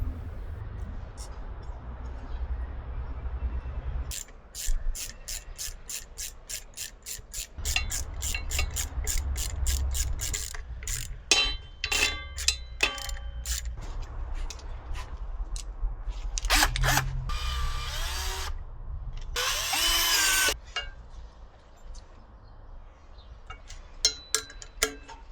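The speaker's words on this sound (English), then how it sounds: "I can finally screw back on the front disc with some properly rated" A ratchet tool clicks while screwing the front brake disc back onto the wheel of a Shineray Cub 50 motorbike. The close, rhythmic ratcheting comes in repeated bursts with short pauses and sharper metallic scrapes between them, with no talking.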